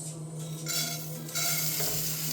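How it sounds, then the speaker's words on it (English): Rice toasts in a pan over very low heat, giving a soft, steady sizzle with light stirring scrapes, close and fairly quiet, with a constant low hum underneath. "I'm gonna toast the rice on it's literally on very low"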